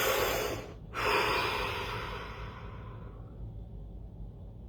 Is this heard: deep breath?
yes